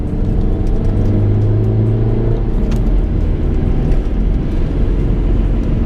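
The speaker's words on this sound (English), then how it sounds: "Little bit of turbo noise at the front," A Volvo C30 accelerates hard in third gear, its engine a loud, continuous low rumble with a faint turbo whistle layered over it, steady and close throughout.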